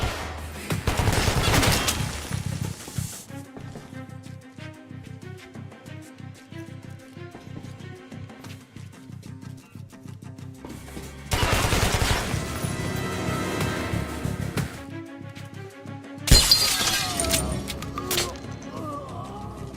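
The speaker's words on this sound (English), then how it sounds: "I'll go for the silent shotgun then." Three heavy blasts from a silenced single-barrel shotgun in Metro Last Light, each a loud burst of a few seconds with a long decaying tail, separated by quieter stretches.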